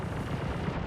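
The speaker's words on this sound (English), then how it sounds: "Oh, he's shooting back, dude." Turret fire in Star Citizen, a dense, steady rumble of rapid shots and impacts, loud and close, with no voice over it.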